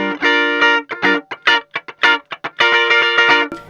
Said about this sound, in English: If you roll off too much bass, like below 500, you'll lose some of the body of the guitar and it would sound a bit like this